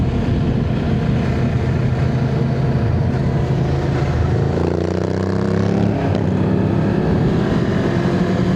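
A 2026 Kawasaki KLE 500 SE motorcycle engine drones steadily and loudly while riding, a continuous buzzing hum with wind rush and a slight shift in pitch midway, no voices heard.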